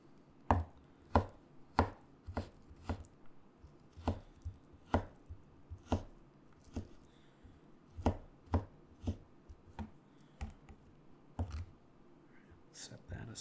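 Knife chopping and mincing food on a cutting board in a close, quiet ASMR kitchen setting, giving a steady series of crisp, distinct knocks at an even pace.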